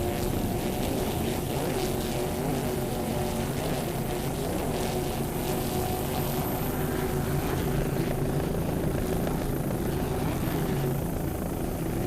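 40-foot Fountain racing powerboat with Mercury engines roaring at full throttle in a Super V race, a dense, loud, continuous drone with no letup.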